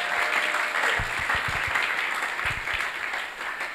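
Congregation applauding at a Sunday church service, a dense, steady wash of clapping that runs unbroken, with a few louder claps standing out near the front.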